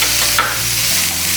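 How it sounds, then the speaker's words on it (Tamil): Chopped onions hit hot oil with mustard seeds and curry leaves in a pan for a chutney, a steady close sizzle and frying hiss with a brief stirring scrape, no voices. "அடுத்து இந்த பொடியை நறுக்கிய வெங்காயத்தை சேர்த்துக்கலாம்."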